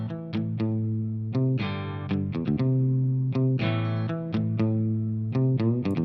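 A guitar riff runs through a Donner Arena 2000 multi-effect pedal and amp modeler, with choppy, rhythmic clean-to-lightly-effected chords and short staccato stabs played steadily and close.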